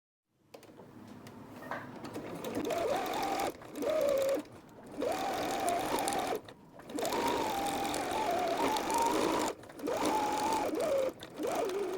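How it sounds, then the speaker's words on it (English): A sewing machine stitches the sides and bottom of a tote bag in several bursts of steady, close motor whirring, separated by brief pauses as the fabric is turned. "Now I'm going to put the front and back together and sew the sides and bottom."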